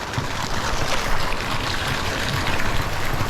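Water splashing in a waterpark pool in Pattaya, a dense continuous wash of rushing, spraying water, loud and steady throughout with no voices.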